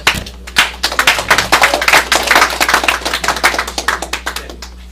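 Close, loud clapping from a small audience at a social media marketing forum welcoming a lecturer, rapid sharp hand claps in a dense irregular stream over a low steady hum.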